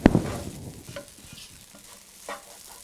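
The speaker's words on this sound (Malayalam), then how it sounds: "ഇനി നമുക്ക് തുറന്നു വെച്ച് മീഡിയം ഫ്ലെയിമിൽ 3 മിനിറ്റോളം ഇതുപോലെ ഇളക്കിക്കൊണ്ട് കുക്ക് ചെയ്യണം." Vermicelli pulao stirred in an open pan over a medium flame: a sharp scrape at the start, then soft scraping and quiet sizzling with a few light clinks, close and fairly quiet, with no talk.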